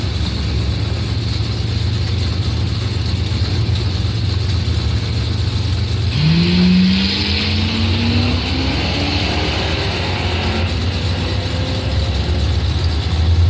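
A white Camaro and a 1990 Mustang launch side by side in bracket drag racing at Northern Michigan Dragway. A steady, fairly distant engine drone is broken midway by a rising revving sweep as the cars pull away.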